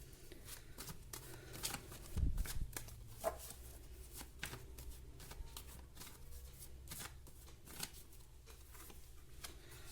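Tarot cards are shuffled slowly and gently by hand, a continuous soft riffling and sliding of worn cards heard close up with no talking.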